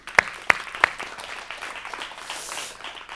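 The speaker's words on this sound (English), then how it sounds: "Please come forward and give a big applause to them." A few sharp, separate hand claps open a conference applause from the audience, then give way to a softer, diffuse patter that swells briefly near the end.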